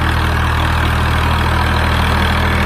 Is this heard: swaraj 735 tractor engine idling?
yes